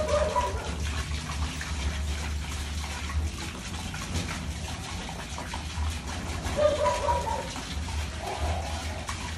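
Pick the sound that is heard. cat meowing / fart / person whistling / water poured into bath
water poured into bath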